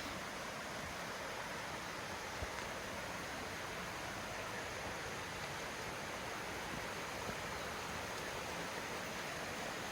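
A creek at Maunawili Falls in Hawaii flows steadily, a broad, even rushing hiss of moving water that holds constant and close, with no voices.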